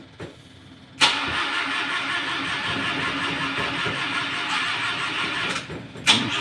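An old series 1 van's engine cranks and catches after standing unused for a long time, a sharp start followed by a steady close idle and a second revving burst near the end.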